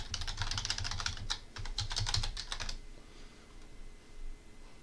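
Fingers type a password on a computer keyboard in a quick run of close key clicks for about three seconds, pausing briefly midway, then quiet room tone.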